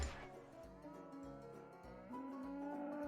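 Cattle mooing in a video game level about herding cows and turning weather vanes north: a steady, drawn-out low moo with a second, higher lowing call rising near the end, heard alone without talk.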